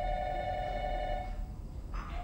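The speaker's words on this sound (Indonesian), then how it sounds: "Tuh, telepon." An old-style telephone bell rings in a steady sustained burst, then breaks off as a second short ring begins, heard at moderate distance against a low background rumble with no talking.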